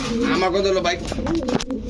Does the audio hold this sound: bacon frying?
no